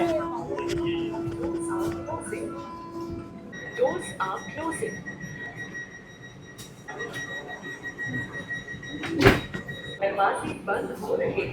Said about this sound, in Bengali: দরজা পুরো বন্ধ হয়ে গেছে